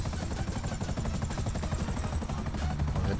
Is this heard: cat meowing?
no